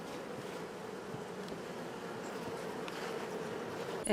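Honey bees hum in a steady, faint drone around a hive, an even buzzing swarm with no pauses and no voices.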